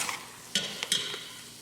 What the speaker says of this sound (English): I'm going to give that a good stir together